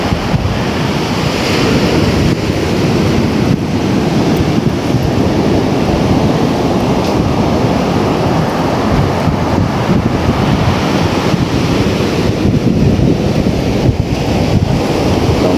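Ocean surf pounding and surging onto the eroded, ruined beach at Atafona, Brazil, a loud continuous wash of breaking waves mixed with heavy wind buffeting the microphone.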